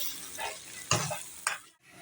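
Chicken sizzles in a pan with okra nearby while a spoon stirs it, soft steady frying hiss broken by two brief scraping stirs, close and fairly quiet.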